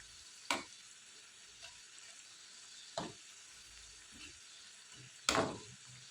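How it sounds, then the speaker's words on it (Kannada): Poha vada fry in oil over a low flame with a quiet, steady bubbling sizzle, broken by three sharp clicks or taps of a utensil, and no talking. "ಲೋ ಫ್ಲೇಮಲ್ಲಿ ಆದಷ್ಟು ಕರ್ಕೊಬೇಕು. ಸ್ವಲ್ಪ ಗೋಲ್ಡನ್ ಬ್ರೌನ್ ಬಂದರೆ ಸಾಕು. ಅಲ್ಲಿ ತನಕ ಫ್ರೈ ಮಾಡ್ಕೊಳ್ಳೋಣ."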